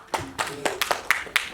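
Scattered hand claps from a small audience at a union felicitation event, about seven sharp, uneven claps over a second and a half, close and fairly loud.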